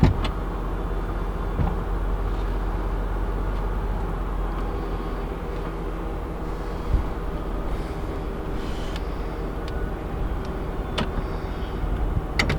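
The power convertible top of a 2001 Mercedes-Benz CLK430 lowers after a button press: a steady mechanical whir runs throughout, with a few soft clunks along the way.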